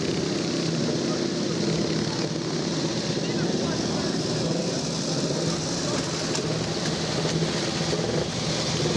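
Vintage motorcycles, including 1920s machines, setting off together on the Banbury Run, a continuous loud engine drone from several bikes close by, steady throughout with crowd chatter mixed in.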